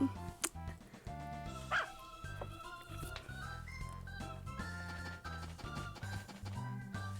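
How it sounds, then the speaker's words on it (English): A dog barks in the game Harvest Moon, short yips over busy game music with a cheerful melody and bass. "All of a sudden that dog started barking at me"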